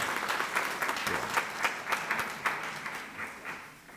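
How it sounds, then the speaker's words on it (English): A church audience claps in steady, dense applause at a celebration honoring a woman's triumph over adversity, with sharp individual claps standing out through the sustained crowd sound for several seconds. "give them a hand clap of praise right now"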